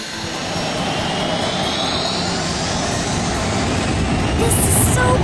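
Loud, steady roar of jet engines running, a constant broadband rumble with a faint high whine that swells slightly toward the end.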